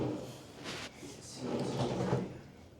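Soft-close drawer in a hotel room at Gaylord Palms Resort Orlando sliding shut in two gentle glides, a short rustle then a longer smooth slide, close and quiet.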